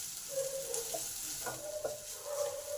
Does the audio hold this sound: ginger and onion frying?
yes